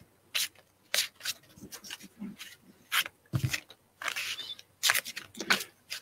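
Playing cards are shuffled close up, the burst of riffles and quick rubbing scrapes coming every second or so, with quiet pauses between them and no talking.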